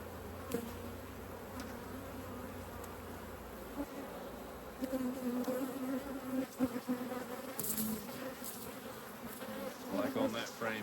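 Honeybees buzz steadily throughout a hive inspection with frames full of brood, a continuous droning hum that swells in louder bursts, with occasional faint handling noises.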